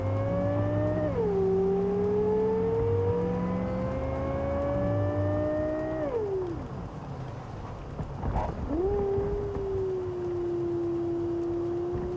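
Cyberpunk 2077 car engine revving and accelerating, a loud continuous game engine tone that climbs in pitch, drops away as the car shifts, then rises again.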